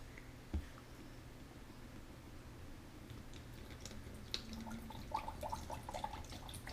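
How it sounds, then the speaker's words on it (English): Liquid pours and trickles into a Magic Mixies misting cauldron toy, a soft, continuous wet splashing with a few faint drips, close and fairly quiet, with no talking. "Pour it into the cauldron, right here in the middle."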